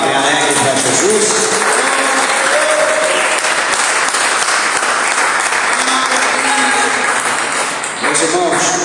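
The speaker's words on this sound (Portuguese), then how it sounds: "Quem pode dar uma salva de palmas bem alegre para Jesus?" A church congregation breaks into a loud, joyful round of applause that fills the room evenly for several seconds, dense and sustained without a pause, with no speech over it.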